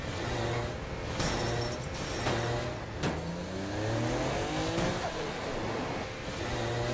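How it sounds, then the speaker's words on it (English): A car in the video game Saints Row The Third revs and power slides around corners, the engine surging and falling in loud, continuous waves with tyre scrubbing and brief sharp impacts. "You can stop on a dime, power slide around corners, or even flip the car 180 degrees and continue driving in reverse"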